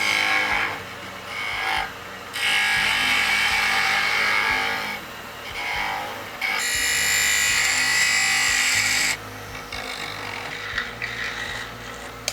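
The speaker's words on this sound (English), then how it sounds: "Make a little chamfer." Wood being chamfered for a bird feeder produces rasping, rubbing strokes in several long bursts separated by quieter gaps, close and moderately loud with no talking.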